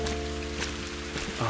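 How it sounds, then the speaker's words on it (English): Rain sound effect in the video game Viewfinder, a soft patter of drops over a steady tonal background hum, closing with a brief brighter swell. "It's like wearing your galoshes through the rain."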